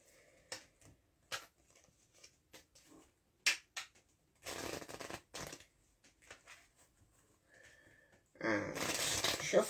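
A pack of playing cards being cut by hand: a series of short, soft, separate flicks and slaps, close and quiet, ending in a denser burst of riffling.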